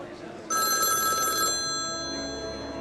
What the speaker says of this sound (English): Now I can answer the phone.